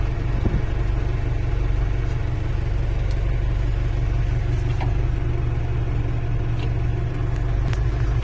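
A homemade excavator's engine runs with the throttle opened, giving a steady, loud, close low rumble that holds an even level throughout with no speech.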